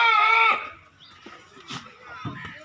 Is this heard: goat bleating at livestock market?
yes